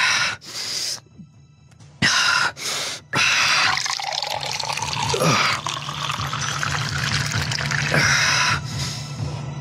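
Water runs and splashes as it is poured, in bursts broken by short pauses, loud and close.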